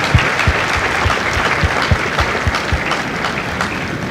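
Steady applause fills a Marine Corps recruit graduation ceremony at MCRD San Diego, a continuous dense clapping crowd with a few louder claps standing out, no voices over it.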